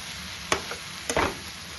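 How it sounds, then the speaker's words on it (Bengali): Bread pieces are tossed with spiced masala in a sizzling pan, giving a soft frying hiss with a few quick scraping stirs and light knocks close by. "দিয়ে দেবো টুকরো করে রাখা ব্রেড গুলো দিয়ে এটা খুব ভালোভাবে এবার আবার মিশিয়ে নেব"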